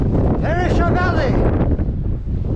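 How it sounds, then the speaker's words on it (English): Strong mountain wind buffets the microphone with a constant loud roar in the snowy Perisher Valley of Kosciuszko National Park. A person's voice briefly cries out over it. "Oh, it's windy."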